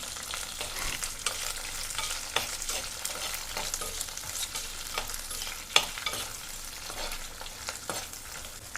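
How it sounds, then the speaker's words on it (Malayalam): Onions, green chilies and shallots sauté in a pan, a soft continuous sizzle with scattered stirring scrapes and clicks, fairly quiet and close, with no talking. "അങ്ങനെ നമ്മുടെ ഉള്ളിയൊക്കെ നന്നായിട്ട് വതറ്റി എടുത്തിട്ടുണ്ട്"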